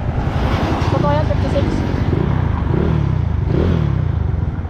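A Yamaha Mio scooter engine idles and revs up close, with a steady rumbling drone that swells twice. Someone talks over it.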